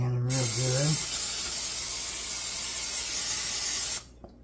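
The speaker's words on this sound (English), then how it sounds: "You want to spray your pan real good." A close, steady hiss of cooking spray coating a baking pan lasts about three seconds after a brief voice at the start, then cuts off abruptly.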